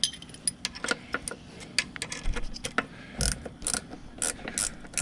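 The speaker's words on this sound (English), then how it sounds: "you see where my 14mm ratchet or socket is" A 14mm ratchet clicks in short irregular bursts while bolts are worked on a Yamaha F225 outboard lower unit, close and fairly quiet, with metallic clinks of tools and hardware between the clicking runs; no talking.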